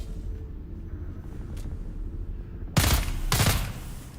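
Two sharp, loud gunshots in a video game crack out close together near the end, over a low, continuous rumbling background.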